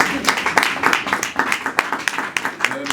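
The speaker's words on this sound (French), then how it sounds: "Est-ce qu'on peut applaudir pour vous?" Audience clapping at a civil event, a dense patter of many hands with irregular sharp claps throughout, moderately loud with some voices mixed in.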